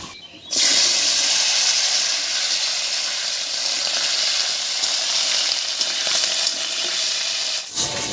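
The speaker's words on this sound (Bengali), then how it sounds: "হাফ চামচ মতো গোটা জিরা আর দুটো তেজপাতা দিয়ে এবার ফোড়নের উপরে আলুটা দেবো" Potatoes tipped into hot oil tempered with whole cumin and two bay leaves set off a loud, steady sizzle that starts abruptly and hisses on for several seconds before dropping briefly near the end.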